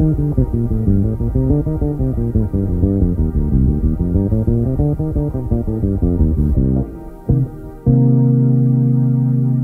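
Bass guitar working through a stepwise, scale-based improvised line, a steady stream of connected notes in the low register, close and alone, ending on a couple of held tones.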